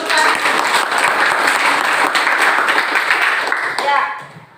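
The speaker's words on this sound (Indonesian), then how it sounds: "Oke, berikan tepukan." A classroom of students breaks into dense, lively applause during a teaching session, the clapping mixed with a few voices and tapering off at the end.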